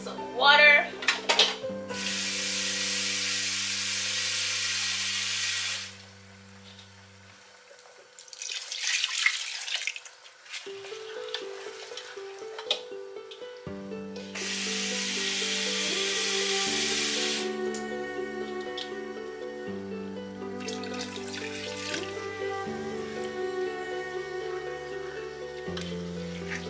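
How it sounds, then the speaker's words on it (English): Water poured into a hot pot of party jollof rice, two long bright pouring bursts with a quieter gap between, sizzling hiss, over steady background music. "Now we're going to add some water."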